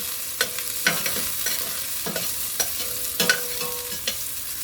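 Celery sautés in a pan with a steady gentle sizzle, broken by repeated scraping stirs of a utensil at irregular intervals, close and clear, no voices.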